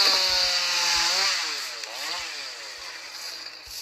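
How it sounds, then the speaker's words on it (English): A chainsaw-wielding Slendytubby in a Minecraft mod gives off a loud, continuous chainsaw whine, steady and close, gradually easing in level over a few seconds without any talk. "This is Dipsy with chainsaw."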